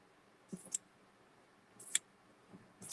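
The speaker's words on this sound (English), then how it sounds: "I'm using my pinking shears." Pinking shears cutting, a few sharp close snips spaced about a second apart, each a crisp metallic click over a near-silent background.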